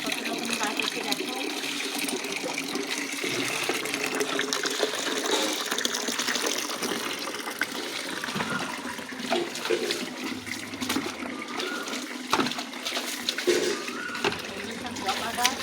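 Water splashes and pours steadily onto potted hibiscus plants outdoors, a continuous close hiss of liquid with birds calling faintly in the background.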